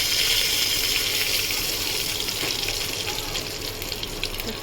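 Whole cumin seeds and a bay leaf sizzle in hot ghee, a steady, dense hiss with light crackling throughout.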